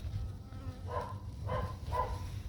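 Honeybees buzz at a hive during a spring inspection, a low steady hum with three short, brighter buzzing swells close by, all fairly faint.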